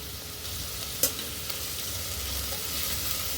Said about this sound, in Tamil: ரெண்டு பெரிய வெங்காயம் ஃபைனாக சாப் பண்ணி சேர்த்துக்கிறேன் ஒரு கொத்து கருவேப்பிலை இது நல்லா வதக்கி விட்டுக்கலாம்